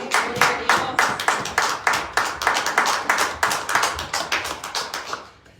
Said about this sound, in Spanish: Ni siquiera merece un aplauso el Señor.